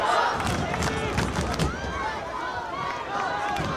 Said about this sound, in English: You hear the Red Hawk faithful as well as the Bulldogs all chanting, rooting their team on